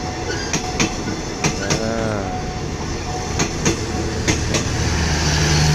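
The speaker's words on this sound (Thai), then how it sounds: "เสียงรางกระทบกันนะฮะในส่วนของตัวข้อต่อ" Train wheels clack rhythmically over rail joints in quick pairs, with a loud rumbling carriage and a brief squeal of metal mixed in, from a passing Hitachi-locomotive train at Yommarat junction, Bangkok.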